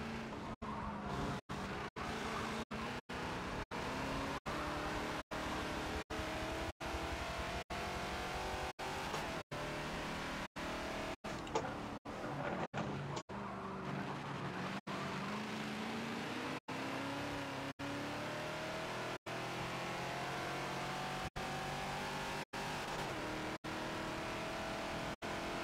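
A Ford Falcon XB race car roars continuously around the Daytona 24-hour circuit in a Forza racing game, its engine revving and shifting through gears over a long lap, with tyre noise and brief gaps between gear changes.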